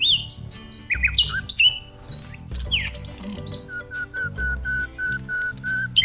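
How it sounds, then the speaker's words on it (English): A bird chirps and whistles up close in a varied run of bright swooping notes, then settles into a quick series of repeated short even tones. "Go ahead and ask the bird any question that you want."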